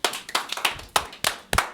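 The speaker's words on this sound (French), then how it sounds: "D'accord, on l'applaudit." A small group claps for a presenter with a handful of sharp, close hand claps in an uneven rhythm, about six strokes in under two seconds.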